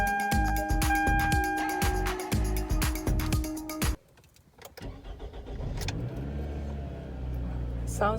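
A car engine is heard up close in a driveway setting, with clicking and rumbling before a brief drop, then the engine catches and settles into a steady running drone with some revving.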